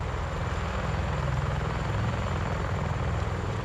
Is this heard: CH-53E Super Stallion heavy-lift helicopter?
yes